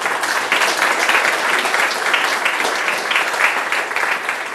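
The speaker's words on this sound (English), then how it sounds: "Can we applaud the teachers?" A large audience gives the teachers sustained, dense applause, loud and even throughout with no gaps.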